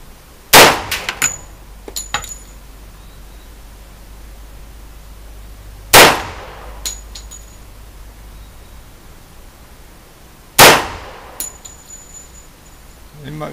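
Real firearms fire at a shooting range: three sharp, loud gunshots spaced several seconds apart, each followed by a brief clatter, over a quiet background hum.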